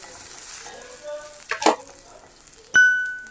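Ginger pieces cut lengthwise are dropped into hot oil for a potato kurma, setting off a sharp sizzle. A bright metallic clang from a utensil follows, then a lingering ring.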